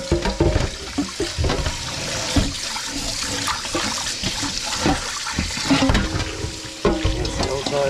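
Tap water runs steadily over a salted pheasant being rinsed in a sink, a continuous splashing rush with irregular clunks and spatters as the bird is handled, close by and fairly loud throughout.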